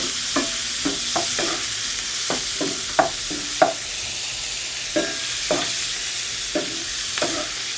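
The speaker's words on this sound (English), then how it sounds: "We're going in with the scallops, guys. We're just going to brown these off and cook them down." Scallops sizzle in a hot pan on high heat under a steady bright hiss, with soft intermittent knocks and scrapes as they are moved around, close and continuous, no speech.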